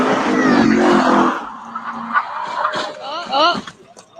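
A Ford Mustang accelerates hard and skids on an open public street as other cars pass, its engine and tire noise rising in bursts while voices talk over it.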